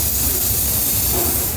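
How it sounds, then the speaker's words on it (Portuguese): A gas-fired furnace in a crystal glass factory roars with a loud, steady broadband rush and hiss, unbroken for the whole stretch with no talk. "Esse forno, ele fica ligado 24 horas. Ele é mantido a gás."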